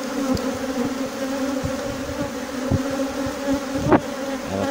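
A swarm of honeybees buzzing during an inspection of a newly established hive, a close, loud, continuous drone with a few sharper knocks and bumps, no voices.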